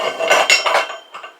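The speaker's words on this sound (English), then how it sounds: "Alright, we're going to put our grinder together" Metal meat grinder parts clank and clatter together in quick succession as the grinder is assembled, bright close-up metallic knocks and scrapes with a pause before a final couple of clinks.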